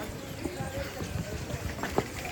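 Horses on the Vaishno Devi pilgrimage trail give quiet, irregular hoof clops against a steady outdoor bustle, with a few sharper knocks standing out.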